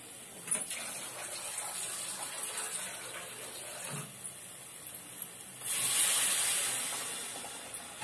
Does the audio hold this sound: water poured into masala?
yes